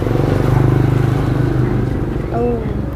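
A motorcycle engine rumbles steadily close by on a street in Lampang, Thailand, with a low droning pulse that fades a little toward the end, while a voice talks briefly over it.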